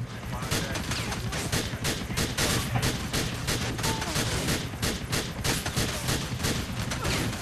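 Rapid bursts of gunfire ring out in GTA IV as shots are fired at police, dense repeated cracks running steadily throughout at close range, with some game noise mixed underneath.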